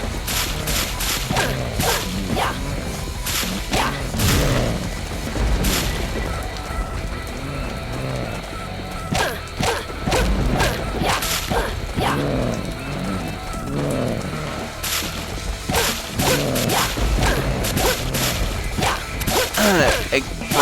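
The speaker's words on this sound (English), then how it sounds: "I could have stayed here all day smashing spiders." Spiders are smashed in the video game Rock Zombie, with loud, repeated impact hits and whooshing swipes piling up over a busy game soundtrack, while a player talks throughout.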